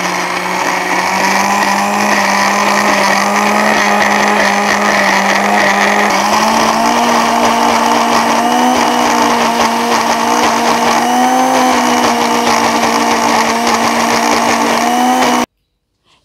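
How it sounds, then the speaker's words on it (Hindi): Electric kitchen mixer grinder running steadily, pureeing fresh ingredients into a fine paste; a loud continuous motor whine that rises slightly in pitch midway, then cuts off abruptly near the end. "सभी चीज़ों को हम अच्छी तरह पीस लेंगे, सभी चीज़ों का हम फाइन पेस्ट तैयार कर लेंगे।"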